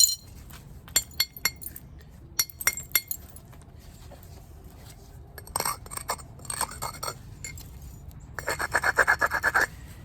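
Dacite stone is knapped by percussion. Sharp clinks and ticks come in irregular bursts, with a scraping, grinding abrasion near the end, all close and moderately loud with no talking.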